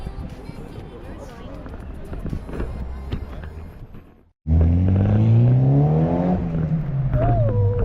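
Cars on a Tokyo street roar past close by, a loud engine rumble with revving that swells after a brief silence, over busy city noise and people talking.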